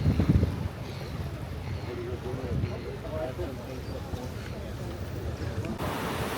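A ferry crossing Sydney Harbour gives off a steady rumble of engine and water, mixed with gusty wind buffeting the microphone, while a voice talks over it.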